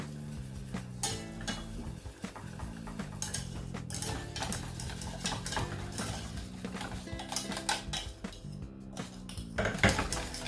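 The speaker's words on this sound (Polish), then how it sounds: "I to wszystko energicznie mieszamy, aby grudek nie było" Energetic stirring of a chocolate glaze of milk, powdered sugar and cocoa in a bowl: steady clinking and scraping of a utensil against the dish, close and continuous, with no talking.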